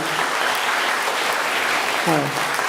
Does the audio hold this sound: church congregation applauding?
yes